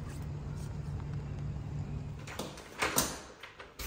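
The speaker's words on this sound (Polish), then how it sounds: "O, ciężkie drzwi, bo to przeciwpożarowe." A heavy fire door in a building is pushed open and swings shut, a low steady rumble followed by a couple of louder clunks and thumps near the end.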